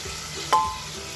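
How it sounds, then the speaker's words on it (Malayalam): Crushed ginger, garlic and green chili sauté in a pan with a soft continuous sizzle and a single brief clink of a utensil partway through. "അപ്പോൾ ഇതിൻ്റെ പച്ചമണം മാറുന്നവരെ നമുക്കിതൊന്ന് വഴറ്റി കൊടുക്കാം"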